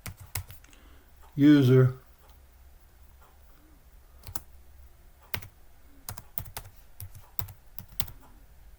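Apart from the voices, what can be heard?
typing on a computer keyboard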